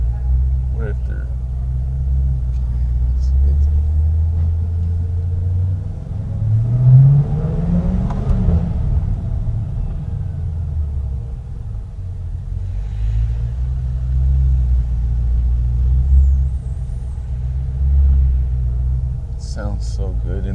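A Chevrolet Corvette C8 idles and rumbles inside a garage, a deep steady low engine drone that swells into a brief rev midway, with a person talking over it.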